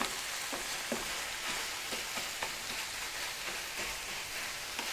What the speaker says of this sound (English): Quick break to stir the meat. Oh, that's browning up a little bit now